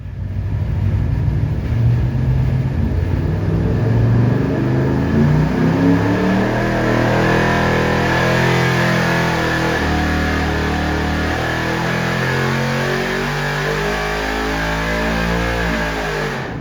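A carbureted car engine on a dyno, run while comparing 1 3/4 and 2 inch headers, revs loud and steady for the whole stretch, its deep exhaust note rising and falling through repeated throttle sweeps.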